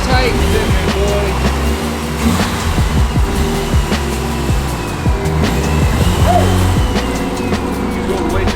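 Nissan Silvia S15 with a VVL engine driven hard, a loud close engine revving up and down through gears with some tire noise, steady and dominant throughout.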